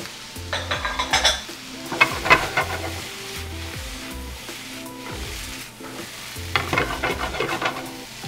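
Rough-chopped garlic and black beans sizzle in a frying pan, with a constant hiss broken by bursts of stirring and the scrape and clink of a utensil against the pan.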